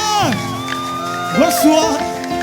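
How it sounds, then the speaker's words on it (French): A church congregation at a French-language worship service cries out in joyful praise to God, a loud burst of whoops and shouts from the crowd, with several voices sliding up and down, sustained throughout and peaking about halfway through. "Nous poussons des cris de joie à l'honneur de notre Dieu."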